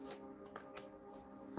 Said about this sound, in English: I love these cards, but they're not the easiest to shuffle.